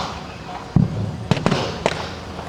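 Simulated artillery explosions at a WW2 reenactment at Bovington Tankfest 2009, several sharp bangs in quick succession over a steady outdoor rumble, moderately distant.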